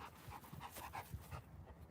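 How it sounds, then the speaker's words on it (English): A Labrador pants in quick, rhythmic huffs, faint and somewhat distant, continuing steadily for a couple of seconds with no talking. "This is not an easy dog."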